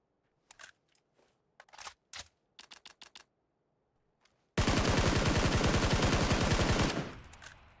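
Scattered light clicks lead into a sustained rapid-fire burst from an automatic weapon in a video game, loud and close for about two and a half seconds before cutting off abruptly.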